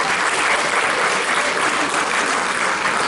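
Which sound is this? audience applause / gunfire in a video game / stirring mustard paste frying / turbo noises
audience applause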